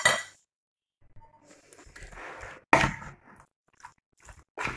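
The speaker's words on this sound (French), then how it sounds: "Donc là, on va mélanger." Chunks of meat are mixed with olive oil, spices and yogurt for kebab or shawarma: a spoon clinks against the bowl now and then between wet squishing and smacking sounds, close up, in bursts.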